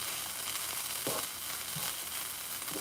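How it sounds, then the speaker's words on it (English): Vegetables sizzle and crackle steadily in a hot pan as they are slowly stirred into a Mexican stir-fry, with a few louder scraping bursts from the spoon; close and fairly quiet, no talking. "now I'm gonna start slowly mixing the vegetables in there like that"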